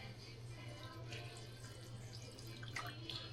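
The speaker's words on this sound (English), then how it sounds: "Then we're going to add a little bit of water." Water from a tap runs steadily into a pot of pinto beans being cooked for chicken fajita bowls, a faint continuous splash with low kitchen hum beneath.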